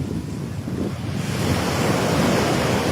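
Strong wind buffets the microphone while waves surge and break along a beach, a loud, steady roar that swells after the first second, with no voices.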